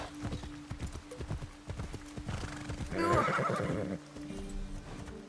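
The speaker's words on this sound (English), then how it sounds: "That's a horse." Horse hooves clop steadily in the video game Assassin's Creed Shadows, then a loud whinny rings out near the middle, with game sounds and a voice talking underneath.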